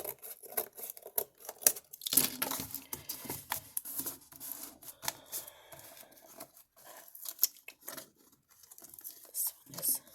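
Cutting the bottom of a box for a tool caddy or trash can: quiet, close scraping, snipping and rustling in irregular bursts, with soft crinkling and faint background voice.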